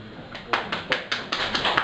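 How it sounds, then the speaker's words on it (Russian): A small group claps in a slow, uneven rhythm after a children's song performance, sparse hand claps close by, steady and moderately loud, with no voices. "Аплодисменты!"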